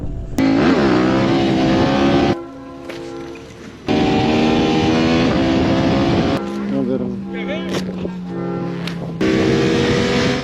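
A motorcycle carving through rural roads, engine note rising and falling with harmonic sweeps across a couple of loud passes, briefly dropping in the middle.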